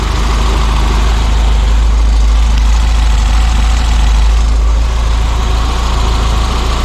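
A Peugeot 205 GTI engine idles loudly and steadily close by, a constant low rumble with a faint mechanical knock and no change in revs, and no talking over it.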